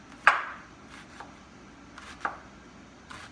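A knife slices red onion very thin for a salad with tomato and cucumber, giving a few sharp, close cuts on a board, one strong at the start and fainter ones spaced after it, in a quiet kitchen.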